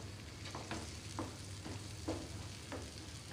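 Eggs fry in a pan over a full gas flame, a steady broadband sizzle under repeated soft scraping strokes of a utensil stirring them, close and continuous with no talking.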